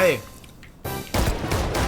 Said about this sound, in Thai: กลัวเสียงปืนไหมคะ